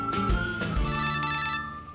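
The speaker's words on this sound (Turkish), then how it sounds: "Aha telefon çalıyor." A telephone rings in a home, two bright trilling electronic ring bursts followed by a sustained tonal ringtone, loud and close with no talking over it.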